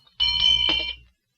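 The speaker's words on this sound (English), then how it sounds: "Francis, what are you doing with that large bell?" A large handheld bell rings once in an early live television studio, a bright clear clang about a second long that fades quickly into silence.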